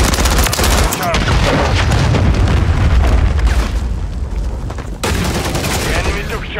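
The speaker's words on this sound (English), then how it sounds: "Friendly cruise missile deployed" A cruise missile explodes in Call of Duty Modern Warfare 3 multiplayer, a loud, sustained low boom rolling under dense battlefield gunfire and a second blast around five seconds in, with voices calling out over the chaos.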